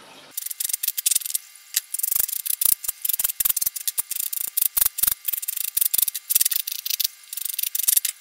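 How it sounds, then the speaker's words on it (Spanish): A wooden strip's corners are filed by hand, giving a steady run of short, scratchy rasping strokes in quick rhythm, close and fairly loud, with no talk. "Voy a limarlo y ahora seguimos."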